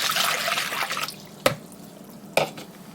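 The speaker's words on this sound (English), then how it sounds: "we're going to add our 2 cups of water" About two cups of lukewarm water splash into sourdough sandwich bread dough in a bowl, a soft, steady pouring rush that thins out into two crisp drips or taps, close and fairly quiet.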